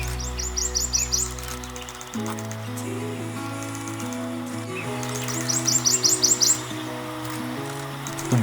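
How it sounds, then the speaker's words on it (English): A prothonotary warbler sings near bushes by a river, its bright repeated phrases rising clearly in two bursts over a steady background hum and a mechanical drone. "The warbler was not only very cooperative while it was hunting for bugs, but it was also really vocal."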